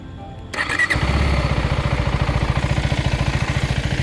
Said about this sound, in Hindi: तो अभी हम बाइक को ऑन करते हैं।